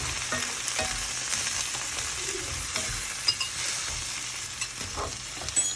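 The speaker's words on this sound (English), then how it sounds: "Okay, now we're going to put our tomatoes in. There we go. Give it a little stir while Mr. Memphis makes the broth over there" Tomatoes are stirred into a simmering lamb shank ragu, giving a soft, steady sizzle and bubble with a few scraping stir strokes near the end, close up and without voices.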